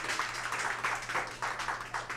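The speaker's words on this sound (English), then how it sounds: "the ladies weren't applauding for me" Audience applause and clapping at a comedy casting call show, a steady wash of many hands throughout, fairly distant and moderate in level, with no talk over it.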